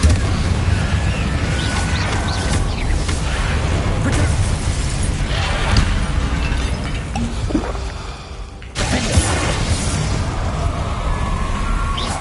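Confringo fire spell blasts in Hogwarts Legacy, loud bursting explosions layered over dense continuous game noise, with a sudden drop and another burst near the end.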